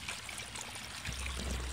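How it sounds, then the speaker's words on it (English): Drain water in an aquaponics system gurgles and bubbles as it draws in air through a vortex, a steady close trickle that grows louder partway through. "You can probably hear the gurgling and the bubbling"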